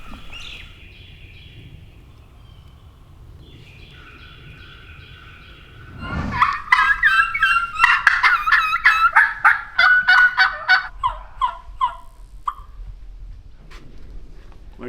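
Wild turkeys gobble outdoors on a humid, cloudy morning, with a burst of rapid, rattling calls rising suddenly midway and then tapering off into scattered notes over a quiet background.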